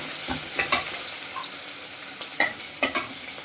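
Garlic sautéing in a pan for Maharashtrian vangyache bharit (roasted brinjal mash), with a soft steady sizzle broken by a few sharp scraping stirs of a spoon against the pan, heard close with no talking.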